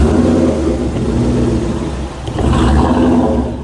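A Ford Mustang's engine runs loud and steady throughout, dipping briefly around the middle before its revs climb again as the car is put into gear and pulls away.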